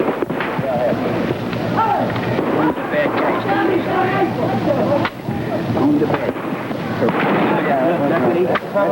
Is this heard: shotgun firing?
yes